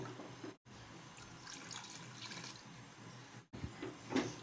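Water from a tap runs into a pot of beef paya, a steady close splashing pour with a brief break partway through, then a few trickling drops at the end.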